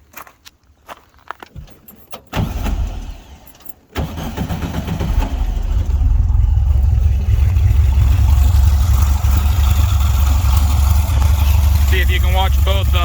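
A VW Volksrod engine with twin Weber IDF carburetors and 145 main jets cranks and catches after a few shuffling sounds, then settles into a loud, steady, rumbling idle that carries on to the end.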